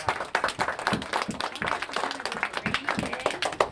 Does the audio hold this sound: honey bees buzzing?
no